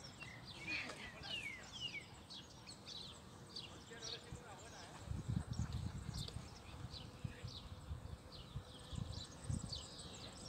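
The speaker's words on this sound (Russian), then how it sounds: "Цветет лаванда, пчелки жужжат, слышно вам?" Honeybees buzz around flowering lavender in an apiary with six-frame hive boxes, a steady close hum with individual bees zipping past, while a person talks quietly in the background.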